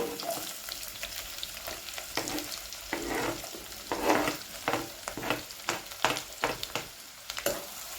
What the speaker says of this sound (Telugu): ఆయిల్ హీట్ అయ్యాక ఆనియన్ సన్నగా కట్ చేసుకున్న ఆనియన్ వేసుకుందామండి